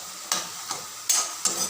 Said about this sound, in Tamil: இப்போ நான் கொஞ்சமாக கிழங்கு கொஞ்சமாக இருக்கிறதுனால மொத்தமாக போட்டு ஃப்ரை பண்ணுறேன்